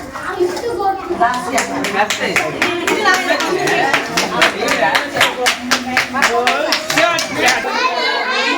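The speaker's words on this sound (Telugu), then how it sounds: "క్లాస్ కొట్టండి క్లాస్ కొట్టండి రా క్లాస్ కొట్టండి పిల్లలు" Children clapping their hands at a school prize ceremony, a steady run of sharp claps close by that lasts the whole time, with children's chatter mixed in.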